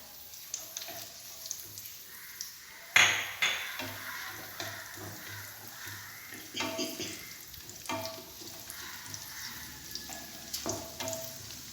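Raisins fry in a pan for a Kerala lentil payasam and get stirred with a spoon, a soft sizzle beneath scraping and clinking strokes against the pan that come in irregular bursts, with one sharp clatter near the start.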